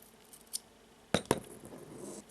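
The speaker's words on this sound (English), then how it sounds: "I will cut the end of the cord" Scissors snipping the end of a crocheted friendship bracelet cord, two quick close clicks following a faint earlier tick, with quiet surroundings.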